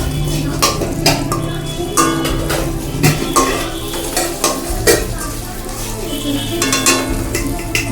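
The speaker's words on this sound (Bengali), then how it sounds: "আগে নাড়াচাড়াটা ভালো করে করে নাও।" Katla fish curry is stirred in a pan, with repeated close clinks and scrapes of a spoon against metal over a steady sizzle of frying.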